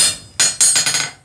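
A hammer forging steel on an anvil, with four loud, ringing metallic strikes close by, each decaying briefly before the next blow lands.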